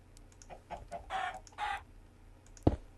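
Video-game chickens on a chicken farm cluck in short scattered bursts, a few soft single clucks and two longer squawky calls, then one sharper, louder cluck near the end over a quiet hum.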